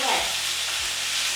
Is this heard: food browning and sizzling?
yes